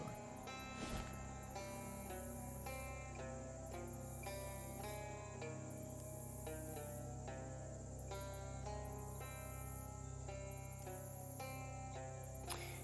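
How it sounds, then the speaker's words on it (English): In a video game, frogs croak and trill in a dense, continuous chorus close by, with insect-like chirping mixed in and a steady pulsing rhythm throughout, quiet overall and with no talk. "Distant frog sounds become less distant frog sounds as you find yourself very close to a lot of frogs"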